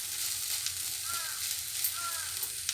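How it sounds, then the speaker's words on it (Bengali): Sabudana pulao being stirred in a pan after sugar goes in, a soft low sizzle with faint scraping strokes and light clinks of the spoon. "মিষ্টিটা দিয়ে একটু নাড়িয়ে নিই"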